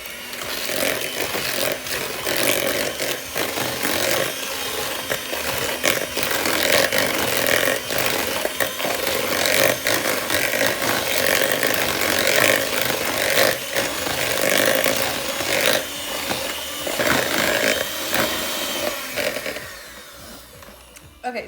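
Polish kruschiki cookie batter with sugar and a pinch of salt is beaten with a loud, continuous mechanical whir that wavers slightly in strength and cuts off near the end.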